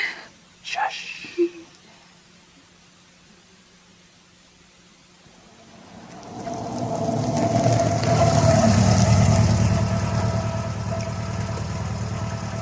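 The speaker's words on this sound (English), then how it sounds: "Are you going to switch off the engine" A car engine idles in an audio-drama scene. A low, steady rumble swells in about halfway through and holds, after a near-silent opening with a few faint knocks.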